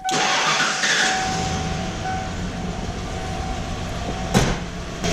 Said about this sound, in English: Let me start the truck again